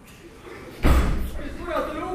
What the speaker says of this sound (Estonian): Kurat, tuli ukse kinni pani.